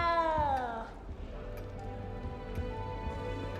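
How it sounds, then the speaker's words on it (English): A cat in the Hogwarts Legacy video game lets out a loud, drawn-out wailing meow that bends downward, followed by a quieter ambient hum and faint ticks in the game scene. "You don't need to be frightened, little cat."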